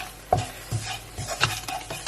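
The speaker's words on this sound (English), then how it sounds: "I'm going to just stir all of that in now" Ingredients including a bay leaf stirred in a pan, with a spoon scraping the bottom in several short, close strokes over a soft sizzle.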